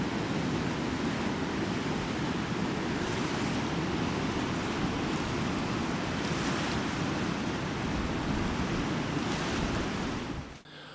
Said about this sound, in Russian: А вот такой бушующий поток на месте скромного ручейка понесся этой ночью в сторону долины